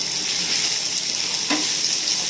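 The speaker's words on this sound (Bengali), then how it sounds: "এই পিসটা অত বেশি ভাজবো না একটু ভেজেই তুলে নেবো" Pieces of food frying in hot oil in a home kitchen, a steady close sizzle and hiss with a brief louder crackle partway through, no voices.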